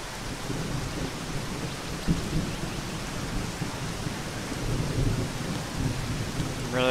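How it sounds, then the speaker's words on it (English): Heavy rain and rolling thunder in the video game ZERO Sievert, a steady dense downpour roaring throughout with low thunder rumbles swelling in and out. "Really heavy rain."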